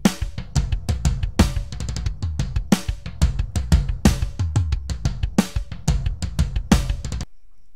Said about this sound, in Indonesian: Jadi ini suaranya rel, suara snare tanpa efek gitu ya.